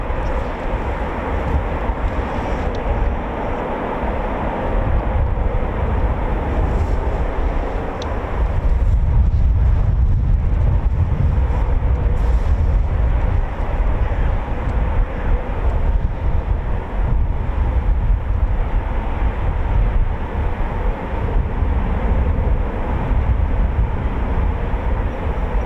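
A Eurofighter Typhoon FGR4 jet taxis at RAF Coningsby, a loud sustained low engine roar and rumble heard from a distance, steady throughout with wind buffeting the microphone.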